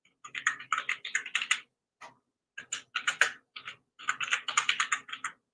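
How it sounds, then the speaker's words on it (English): Quick bursts of typing on a computer keyboard, dense rapid clicks in clusters separated by short pauses, close and clear with no voices. "I'm sorry, I'm typing, I'm sending emails and stuff."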